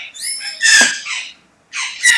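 A small bird gives loud, close, squealing calls in several bursts with a brief pause between them, with no talk over them.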